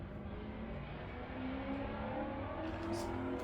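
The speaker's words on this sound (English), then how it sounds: "Car driven by." A car drives by outdoors, a low steady road rumble whose engine whir swells slightly midway and stays moderately loud until the end.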